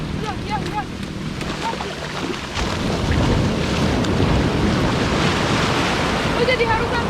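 Ocean waves roll onto the beach at Pelabuhan Ratu, Indonesia, as a continuous loud surf roar mixed with heavy wind buffeting the microphone, growing fuller partway through.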